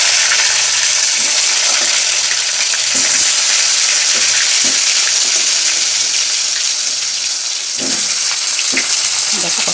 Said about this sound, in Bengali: ভেজে নিই আলুগুলো